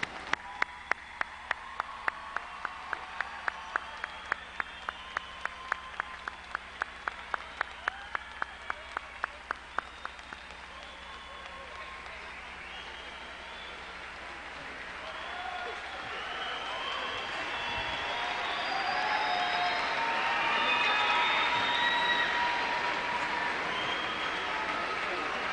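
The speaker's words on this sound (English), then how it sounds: "Please stand and let's applaud our class one more time." A crowd gives a standing ovation at the 1996 Seabreeze High graduation ceremony. It opens with about ten seconds of loud, steady rhythmic clapping in unison, then swells into a broad, sustained wash of applause and cheering.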